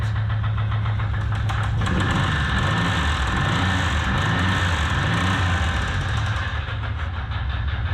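A junkyard 1990 Maserati TC engine runs steadily with Mountain Dew mixed into its oil, a loud, close, continuous mid-pitched drone with a slight knocking texture, alone with no voices.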